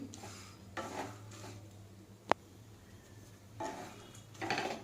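Mixed dry fruits are stirred and fried in a pan for a sugar-free laddu. A spoon scrapes in a few separate bursts, with one sharp click midway and a longer run of scraping at the end.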